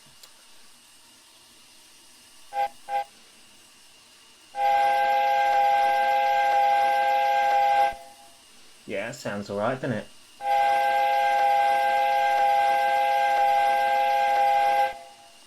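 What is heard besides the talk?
Sentinel locomotive steam whistle in Train Simulator 2022 video game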